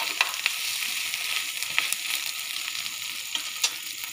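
A parotta fries in coconut oil in a hot pan, giving a steady close sizzle dotted with small crackles and pops, with no talking.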